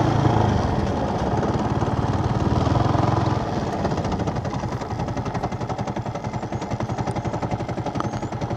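Boat engine running steadily near a Kannagi Amman temple shore, a loud continuous rattling drone with a fast regular pulse that shifts slightly in tone partway through, with no talk over it.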